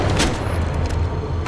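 Gunfire in the mobile battle royale Apex Legends Mobile, a dense fusillade of booming shots and low thuds that sounds close and loud throughout, with a fresh burst near the end.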